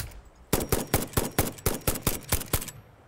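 A rapid run of sharp rifle gunshots in the video game Satisfactory, about a dozen evenly spaced bursts, loud and close, with no talking.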